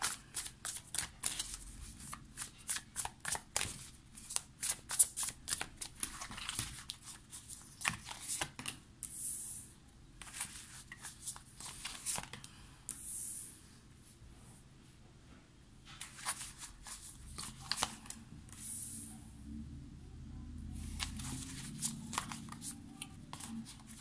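Tarot cards shuffled by hand for a nine-card spread, a long run of rapid riffling and shuffling bursts with brief pauses between them, close and steady, no talk.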